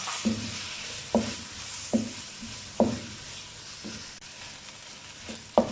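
Chicken pieces frying with two spoonfuls of flour in a pan for a chicken macaroni dish, a steady close sizzle broken by about seven sharp scraping stirs of a spoon against the pan, no voices.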